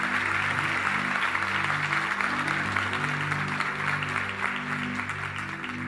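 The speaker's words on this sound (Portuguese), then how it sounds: "Está fraquinho esse aplauso, hein? Vai para ele." A crowd claps continuously and evenly, the applause holding steady over a low sustained musical drone.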